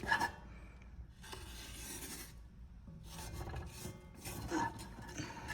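Hardened homemade gachak of jaggery, peanuts and sesame is broken apart, giving dry rasping, scraping cracks in a few bursts, close and fairly quiet with no talking.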